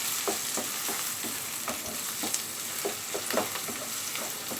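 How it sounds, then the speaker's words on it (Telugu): Onions, four large ones, frying in a pan with a continuous bright sizzle and regular stirring strokes scraping through, close and moderately loud, no voices. "ఇప్పుడు దీనిని మనం బాగా ఫ్రై చేసుకుందాము"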